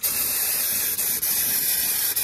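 An aerosol can sprays rubberized undercoating into a car's wheel well, making a loud, close, continuous hiss. The hiss breaks with a few brief dips as the nozzle stutters.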